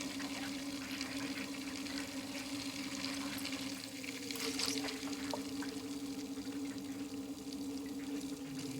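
Water gurgles and trickles through a PC custom water-cooling loop as air is burped out near a vertical radiator, a steady close-miked bubbling over a constant pump hum, with no talking.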